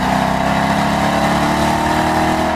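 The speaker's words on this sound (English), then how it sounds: "Its Hemi V8 also makes the most sweet, caramely V8 noise of any car here" A loud, deep Hemi V8 engine drones steadily at high revs, a continuous rich rumble with no voices.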